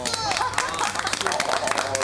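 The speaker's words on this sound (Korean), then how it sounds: "박수!" A studio audience at a Korean variety show claps in a dense, steady burst of applause, with voices talking over it throughout.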